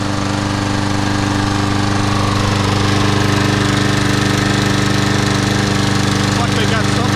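A Troy-Bilt small engine runs continuously up close, a loud, even, rhythmic chugging drone holding the same pitch from start to finish.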